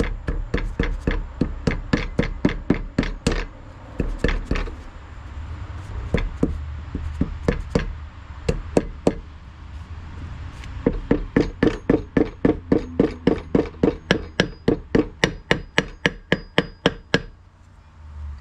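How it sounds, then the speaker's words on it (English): A hammer taps on a bent push rod in a Briggs & Stratton V-twin engine in quick rhythmic bursts of sharp strikes, pausing briefly between runs, close and fairly loud. "Might sound loud, I'm being gentle though. Way choked up on the hammer."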